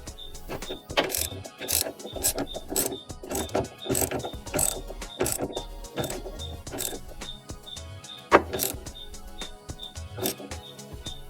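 A hand ratchet fitted with a Torx 55 bit tightens fuel filter bowl plugs, giving repeated quick clicking strokes in an uneven rhythm, close and fairly quiet, with one sharper knock near the end.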